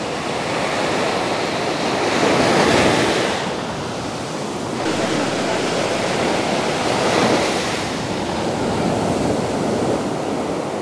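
Sea waves break on Dhanushkodi beach in a loud, close wash of surf that swells and eases twice in slow surges, with wind buffeting the microphone and no one speaking.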